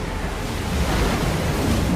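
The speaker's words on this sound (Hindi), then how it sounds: "जिससे गर्म पानी की भयानक बाढ़ आ रही थी।" Rushing flood water surging in powerful waves, a steady roaring wash of broadband noise with low rumble and wind-like hiss, loud and continuous throughout with no voices.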